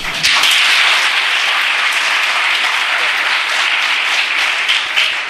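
A large hall of engineering students at a Hyderabad institute of technology claps in a loud, continuous burst, many hands blending into a dense, even roar that holds throughout.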